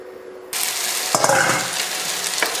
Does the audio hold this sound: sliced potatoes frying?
yes